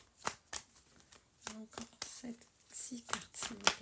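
Tarot cards shuffled by hand, a run of sharp, quiet flicks and slaps at an uneven pace, close by, with a few soft voice sounds mixed in.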